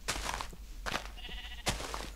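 Sheep in the video game Minecraft bleat three times in short, wavering calls spread evenly across the moment, close and clear over a faint steady background hum.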